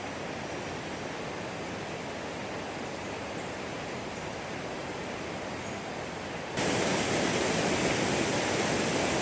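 River water flowing at Kali Jompo plantation in Jember, a steady broadband rush with no voices, becoming noticeably louder and brighter partway through as if heard from a closer spot.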